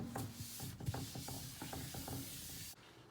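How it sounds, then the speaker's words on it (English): Sandpaper rubbed by hand across a kitchen countertop, a quiet rhythmic series of scratchy strokes about every quarter second, close up, ending abruptly near the end. "So I ended up switching over to 80 grit sandpaper"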